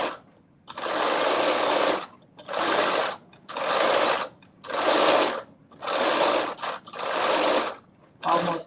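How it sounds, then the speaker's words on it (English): A sewing machine stitches fabric for a reversible bonnet in seven loud, even bursts of rapid whirring, each broken by a short pause. "Sometimes when we're sewing and we're not top stitching"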